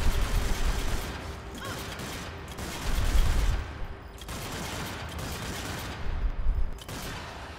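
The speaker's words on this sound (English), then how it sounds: "You can see the rate of fire on this rifle is ridiculous." Rapid rifle fire from an M1 Carbine or PPSH-41 in Zombie Army 4 runs as dense, continuous bursts with brief pauses between strings of shots, loud and close throughout.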